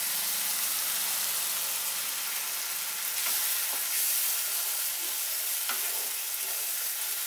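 Mustard and poppy seed paste is stirred into an egg paturi mixture in a pan, giving a continuous soft sizzle with a few light scraping stirs, close and fairly quiet.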